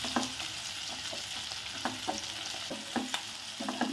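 Capsicum sautéing over a high flame sizzles steadily while a spoon scrapes and stirs in repeated sharp strokes, close up and fairly loud, with no voices.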